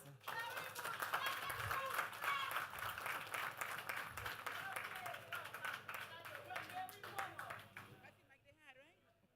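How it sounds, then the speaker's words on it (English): Sustained applause from a crowd at a road-project groundbreaking ceremony in Dominica, dense clapping that fills the space for several seconds before tapering off, with some voices mixed in. "Give them another round of applause, please."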